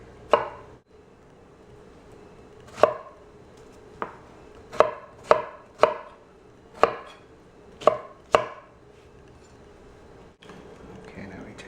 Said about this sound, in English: So we just cut the top off, and then you could just slice them about that big.